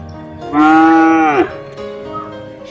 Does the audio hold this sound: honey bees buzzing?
no